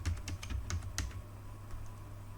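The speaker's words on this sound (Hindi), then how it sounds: "यहाँ पे टॉमकैट लिखते हैं" Quick, light keystrokes on a computer keyboard type out a short word in a burst of about eight clicks, then stop, leaving a quiet room hum close to the microphone.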